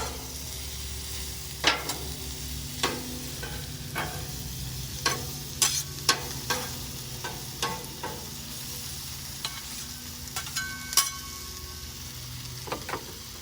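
Vegetables sizzle steadily on a Blackstone griddle while a metal spatula tosses them, giving scattered sharp clinks and scrapes over a constant frying hiss.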